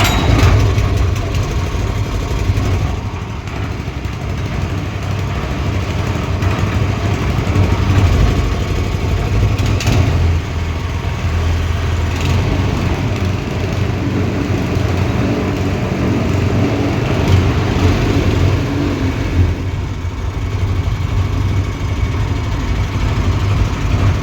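A small petrol engine with its choke on, loud and steady at close range, runs at a rough idle throughout with a continuous low chugging drone and no voices.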